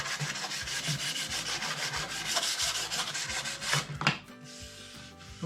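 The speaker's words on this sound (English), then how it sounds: "I'm going to take some sandpaper," Sandpaper is rubbed by hand over a wooden edge on a workbench in a steady, close rasping rhythm of repeated strokes, ending with a couple of louder scrapes and a quieter tail.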